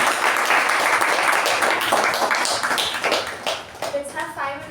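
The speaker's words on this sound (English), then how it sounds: "Let's have a 5 minutes networking break and a round of applause for Toastmaster Sakshi." An audience at a Toastmasters meeting applauds with steady, fairly close clapping that thins toward the end as scattered voices come in.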